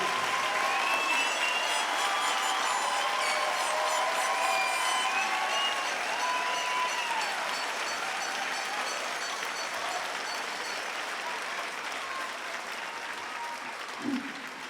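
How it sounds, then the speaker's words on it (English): A large audience applauds graduates at a spring college convocation ceremony, steady dense clapping throughout with faint tonal music or ringing layered above, tapering slightly toward the end. "You're already giving them a round of applause, so let's do it again."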